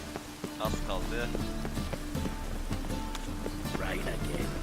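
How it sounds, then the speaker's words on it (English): Rain in the video game The Witcher 3: Wild Hunt, a continuous patter of falling drops mixed with running footsteps and game effects, while a voice speaks over it. "Rain again."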